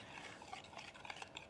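Cake batter mixed by hand in a bowl at home, a soft, quiet run of rapid scraping and tapping spoon strokes, close and continuous.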